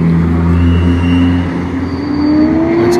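Race cars accelerate past the pit entry as racing resumes after a safety car in a mid-race endurance event, a loud engine drone with a rising pitch sweep close by.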